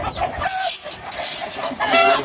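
Chickens cluck and squawk nearby in a busy, overlapping chorus, with sharp bursts of higher calls scattered throughout.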